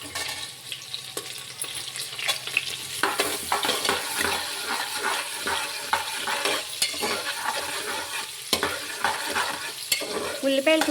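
Onions sizzle in hot oil in a pan for prawn biryani, flavored with cumin, while a utensil stirs and scrapes steadily, the frying hiss continuous and fairly close, with no speech.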